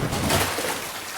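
Two water splash sound effects heard on their own, a loud, dense sloshing wash of water that blends together and fades slightly toward the end, with no talk.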